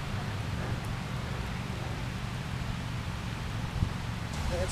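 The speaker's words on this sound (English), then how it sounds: "the rain is coming down good now" Heavy rain pours down outdoors as a steady, broad hiss of falling drops, even and unbroken for a few seconds, fairly faint and close with no clear talk.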